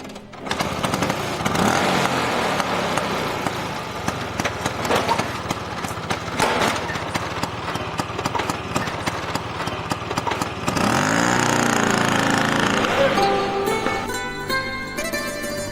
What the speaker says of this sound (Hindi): स्कूटर चला गया।